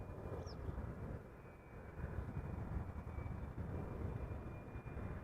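An eight-year-old Boeing 777-300ER arriving at Amsterdam Schiphol Airport, a faint steady distant engine rumble and roar holding throughout.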